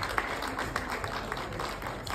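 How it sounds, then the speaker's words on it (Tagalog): An audience at a Collaborate and Conquer 2025 event claps steadily to welcome a motivational speaker, a dense, even wash of many hands with a few sharper claps standing out. "Let's give him a round of applause."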